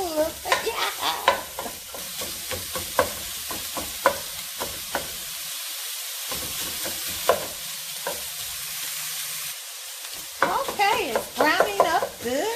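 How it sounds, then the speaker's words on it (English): Spicy Italian sausage browns in a skillet with a continuous close sizzle, broken by repeated scraping stirs and clatters; a voice briefly speaks at the start and the end. "in the same skillet, I'm going to brown the Italian sausage"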